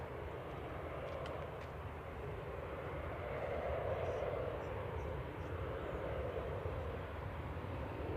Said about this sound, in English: KLM 1037 from Amsterdam now, just about to touch down E190 PHEXF